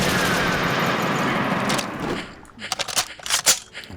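Rapid AK rifle bursts in the shooter game Dead Trash, loud and close at first, then breaking into scattered sharp shots with short gaps between them.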